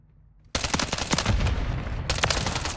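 Rapid automatic gunfire in the video game Call of Duty Modern Warfare 3 on Xbox Series S multiplayer, bursting in abruptly after a quiet moment and continuing as a loud, dense rattle of shots.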